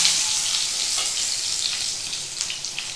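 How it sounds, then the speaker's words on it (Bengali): Small whole potatoes dropped into hot mustard oil, a bright, loud spitting sizzle that stays strong and close throughout with scattered crackles and no voices. "আমি এখানে আলুগুলো দিয়ে নিচ্ছি"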